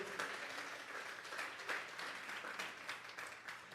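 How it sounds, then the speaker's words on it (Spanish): A church congregation applauds during a Sunday service, a soft, steady patter of many hands clapping with a few swelling bursts, heard from a distance. "denle esa ofrenda de palmas"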